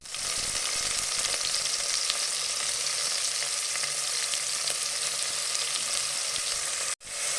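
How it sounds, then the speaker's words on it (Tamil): Tomatoes and shallots sautéing in a pan for a green peas curry, a dense continuous sizzle heard close up, with a brief sharp knock near the end and no voices. "தக்காளி கொஞ்சம் நல்லா வதங்கட்டும்."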